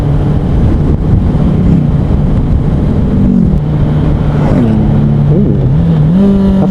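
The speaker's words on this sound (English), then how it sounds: "That sounded lovely. I have no idea what car it was though" A car passing on the road during an evening group motorcycle ride, its engine loud and close under heavy wind roar, revving up and down through several gear changes.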